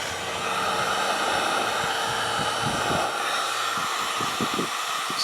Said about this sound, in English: It's a heat gun, not a hairdryer.